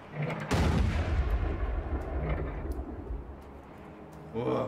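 A cannon fires in a couch co-op video game: one heavy, booming shot with a rumbling tail, then a quieter stretch and a short thump near the end.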